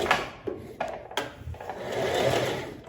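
A sewing machine stitches bias tape onto fabric in short close bursts, with soft mechanical whirring and light knocks between runs and no talk.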